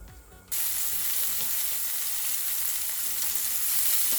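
Food hits a hot oiled pan and bursts into a loud, steady sizzle that continues close-up to the end, with no voices.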